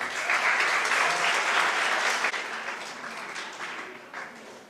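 Enthusiastic applause from an audience at an Independence Day poetry competition, greeting the chief guest, an air commodore; dense clapping that starts full and slowly fades over several seconds.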